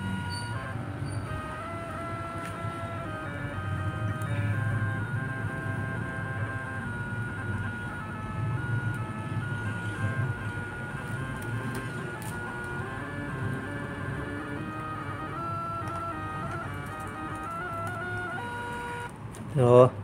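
A Peripage portable thermal printer prints a stencil on ordinary bond paper, giving a low, continuous motorised whir for about twenty seconds, with a short louder burst near the end.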